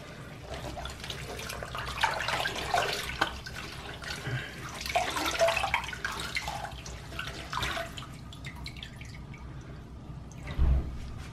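Hand-rinsing merino wool shirts in a sink, with soft water sloshing, drips and squishing fabric as the shirts are massaged, fairly quiet and close with no talking.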